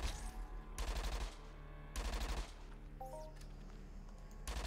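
Bursts of rapid gunfire in Entropia Universe come in three or four clustered volleys with brief pauses between them over a background music bed.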